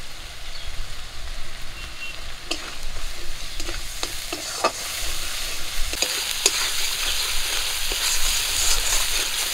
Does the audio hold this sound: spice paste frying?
yes